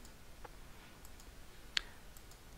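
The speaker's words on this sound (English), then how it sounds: "clicking my mouse for each one" Computer mouse clicking while running a PowerPoint presentation, several faint, sharp, isolated clicks spaced irregularly over quiet background, with one louder click standing out.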